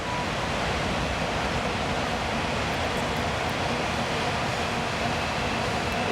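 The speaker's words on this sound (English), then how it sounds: "If this train would hurry up and finish, I could hear again." A loud, constant roar of rushing noise fills everything, like a train rumbling steadily past close by without letup.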